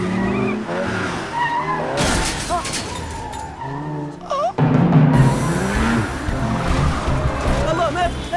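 A car tears away fast with tires squealing, loud and close, with short wavering screeches over a rough engine roar.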